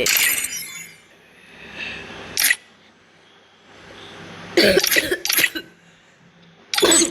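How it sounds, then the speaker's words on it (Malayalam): Several sharp coughs in separate bursts, fairly close, with quiet gaps and faint background noise between them. "ചുമയാണ്."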